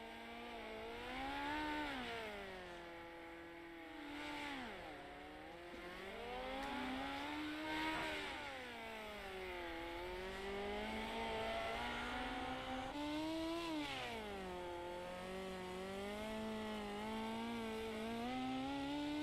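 A dirt-track race car, Bob DeGood's 7 car, revs hard around the Chili Bowl indoor track, its engine rising and falling in repeated throttle sweeps through corners, loud and continuous with no voices.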